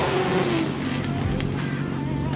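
A drift car races past during qualifying at Meremere Drift Park in New Zealand, its engine roaring loudly with rising and falling pitch and tyre squeal, steady and close throughout.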